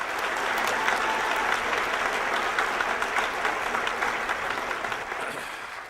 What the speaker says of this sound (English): Another round of applause for Ron.